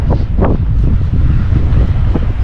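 Strong wind buffets the microphone on a Boracay beach, a constant loud, low roar with gusty swells and no voices.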